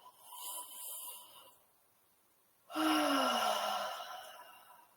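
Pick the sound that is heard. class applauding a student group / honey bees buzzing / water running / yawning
yawning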